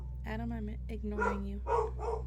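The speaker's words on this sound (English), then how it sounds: "Sorry about my dog if you heard them bark." A dog barks a few times in the background at home, with short yips mixed under a woman's close, soft-spoken talking.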